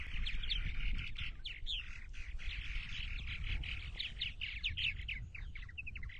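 Purple martins chatter and chirp steadily at a nesting colony on eastern Long Island, a dense overlapping chorus of high calls over low background rumble, continuous and fairly close throughout.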